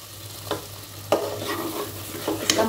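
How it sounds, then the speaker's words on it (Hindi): Spices and jackfruit frying in oil, a close sizzle broken by several spatula scrapes and stirs against the pan, with no talking. "सभी चीज़ों के साथ मसाले अच्छी तरह से फ्राई हो चुकी है"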